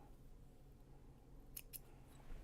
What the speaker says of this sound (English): We've got thread up here that needs to be trimmed